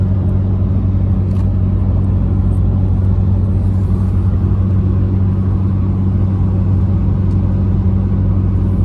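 A truck converted to an Allison transmission, running with no trailer as it climbs a hill, heard as a steady, loud low engine drone and rumble that holds constant throughout, with no talk.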